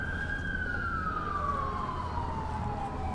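Emergency vehicle siren on a New York City street, a loud continuous tone sliding slowly downward in pitch over steady traffic rumble, with no voices.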